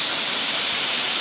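Powerscourt Waterfall roars up close, a dense, steady hiss of falling and splashing water that fills the whole short moment without a break.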